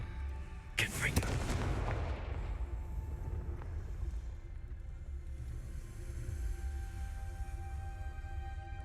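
A Confringo fire spell blasts in Hogwarts Legacy, one sharp explosive burst followed by a rumbling, fading roar over a low steady game ambience, with no talk.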